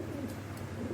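Pride racer pigeons give a short, low coo close by, with a faint background hum.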